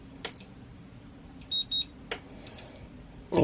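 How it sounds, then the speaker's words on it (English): Short high-pitched electronic beeps from a Venom Pro Quad battery charger sound in a few separate bursts, some doubled, over a quiet low hum. "press start, enter, and hold it until you hear a beep"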